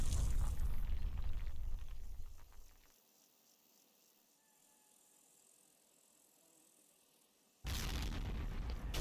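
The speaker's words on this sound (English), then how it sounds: "The mortars fall hard and fast." Mortar rounds exploding in the war game Combat Mission, during a Monte Cassino gorge battle: a loud roaring blast fades into a quiet stretch of faint insect chirps, then another heavy explosion erupts.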